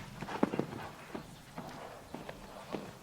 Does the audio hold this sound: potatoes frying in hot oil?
no